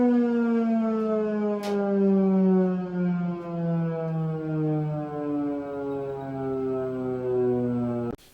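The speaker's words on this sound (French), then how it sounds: "cette sirène sera efficace si toutefois un danger imminent pouvait apparaître." A civil defense warning siren wails steadily and loudly, its rising, wavering tone holding for about eight seconds before cutting off abruptly, heard alone with no talk.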